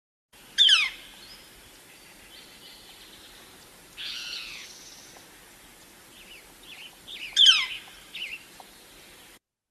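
Sharp, high woodpecker calls sound in separated bursts, a loud pew-like note, a rougher call, then another pew, clear and close against quiet.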